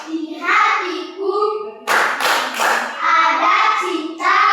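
Rhythmic 'tepuk sukses' clapping chant in an Indonesian classroom lesson, with sharp bursts of clapping in a quick pattern alternating with a child-like voice chanting in between.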